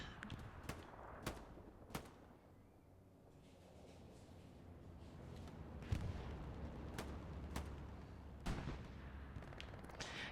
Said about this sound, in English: Looks like he's retargeting his artillery to this kind of area.